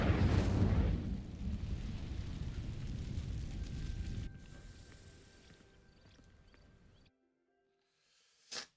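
In Hogwarts Legacy, an Incendio fire spell ignites dry vines with a loud burst and a rushing roar of flames that slowly fades to quiet, then a brief sharp crackle at the end.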